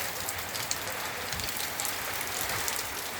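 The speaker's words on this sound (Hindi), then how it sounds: "देखिए ये हमारे यहाँ कितना ज़ोरदार बारिश और हवाएं चल रही हैं, गरज भी रहा है" Heavy rain pours steadily onto surfaces, a dense, loud, continuous hiss with gusty wind texture throughout, no distinct thunder clap standing out.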